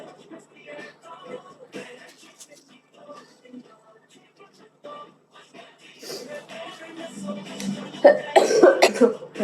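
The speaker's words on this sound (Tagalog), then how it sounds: "Ilang ubo to eh." Several harsh coughs burst out amid shuffling movement, growing louder and denser toward the end, with some talk in the background.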